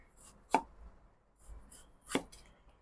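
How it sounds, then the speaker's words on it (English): A knife slicing bitter gourd into thin slant-cut slices: two crisp, distinct cuts landing on a board about a second and a half apart, close and clear against a quiet background. "we will cut them into about 3 mm thick slice. Now do a slant cut"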